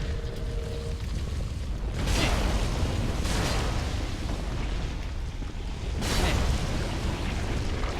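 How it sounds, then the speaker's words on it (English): Fire bomb exploding in Dark Souls 3, heard as loud roaring, booming blasts that surge around two, three and six seconds over a dense rumbling game soundscape; no speech. "just use the old fire bomb"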